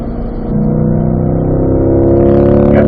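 A Corvette engine accelerates on a race track at the Ron Fellows Corvette Owners School. Its loud, close roar steps up after a brief lower note, and the pitch climbs steadily as the revs rise, with no voices.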